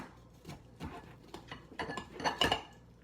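A knife cuts kernels off a corn cob over a bowl, giving soft scraping strokes and light clinks against the bowl that grow louder toward the end.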